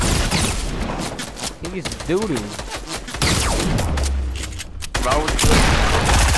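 Rocket blasts and rapid gunfire in an online shooter game, loud repeated bursts and a heavy boom, with excited voices talking throughout.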